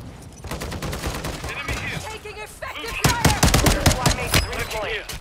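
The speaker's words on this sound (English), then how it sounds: "Taking effective fire!" Bursts of rapid automatic gunfire crackle in a video game, growing denser and louder in the second half. Voices talk over the shooting throughout.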